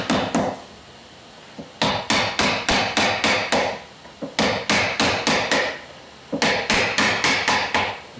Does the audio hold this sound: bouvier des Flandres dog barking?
no